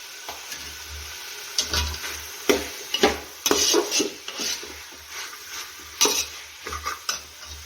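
A spoon stirs vegetable paneer pulao with a pinch of turmeric in a pan, giving irregular scraping clatters and soft sizzling bursts, close and fairly loud, with no talk.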